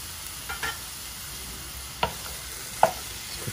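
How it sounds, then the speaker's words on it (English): Garlic sizzles in a hot pan for curry chicken wings, a soft steady fry punctuated by a few sharp stirring scrapes and clicks, with no talking. "Let's get some garlic in there."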